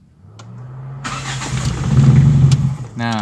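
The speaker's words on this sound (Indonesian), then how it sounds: "Nah, jadi ada beberapa masalah gini ya ketika di starter." A Toyota Corolla twin-cam engine is cranked on the starter, a steady low churning that builds in loudness for a couple of seconds before dropping into a brief rough buzzing catch near the end.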